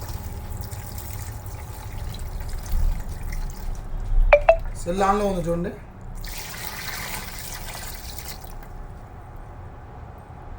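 Water runs and trickles steadily onto an Oppo F25 Pro phone during a water test, soft and close, while someone talks briefly over it.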